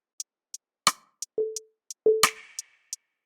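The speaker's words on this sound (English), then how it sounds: "End of every 4th bar, I've just added this reverb snap." A sharp snap with a reverb tail hits in an FL Studio R&B guitar beat, landing twice among short, regularly spaced clicks and brief low tones.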